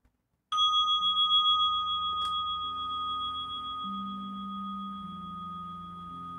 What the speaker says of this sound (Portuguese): damos início à prática da meditação, com o toque de um sino